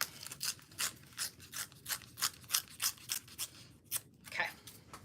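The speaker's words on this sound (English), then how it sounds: "I think I'm going to tear this though" Paper being torn by hand for a scrapbook page, a run of short crisp rips and rustles in quick irregular bursts, close and fairly quiet, with no talking.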